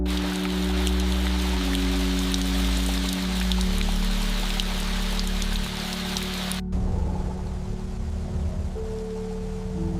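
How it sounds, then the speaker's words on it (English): Heavy rain falls in fat drops on volcanic soil in a forest, a dense steady hiss close by, shifting partway through to a softer patter under a low drone. "The rain is falling in heavy,"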